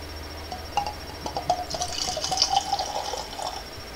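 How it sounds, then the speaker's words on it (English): Evan Williams Vintage 2013 single barrel bourbon whiskey pours from the bottle into a Glencairn glass, a close, gentle liquid trickle with a few faint drips lasting several seconds, no talking. "Let's give it a pour."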